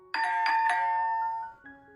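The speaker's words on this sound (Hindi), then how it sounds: "मेरी आंख तब खुलती है जब डोरबेल बजती है" A doorbell chimes nearby with a bright electronic ding-dong melody, several quick tones followed by a lower closing note, clear against a quiet room.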